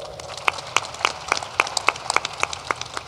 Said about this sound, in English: let's give another round of applause for Deborah for putting this thing together.